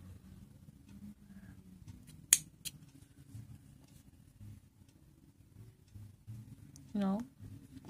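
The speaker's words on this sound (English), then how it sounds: "cut off the excess yarn" Scissors make a single faint snip as they cut off excess yarn during crochet work, with quiet background noise around it.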